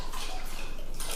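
Water is poured into a glass of Scotch whisky, a steady close splashing rush lasting about a second with no talking.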